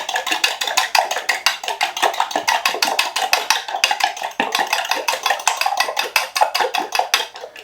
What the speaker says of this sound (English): First thing we're going to do is we're just going to whisk up these eggs.